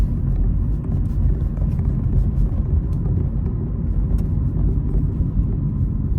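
A car drives along a road near Edmonton's high level bridge, trailing a slow vehicle; a steady, close low rumble of engine and tire noise runs throughout with no talk.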